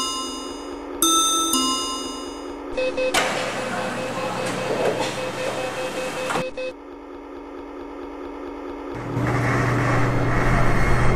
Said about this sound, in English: The train doors are about to close.